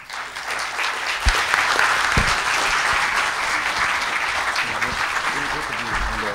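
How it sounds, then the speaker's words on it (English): An audience at an Islamic finance conference gives sustained applause after a speaker finishes, a dense, even roar of clapping in a large hall with a few louder thumps mixed in. "I think Tun Dr. Mahathir Mohamad deserve a rousing applause once again."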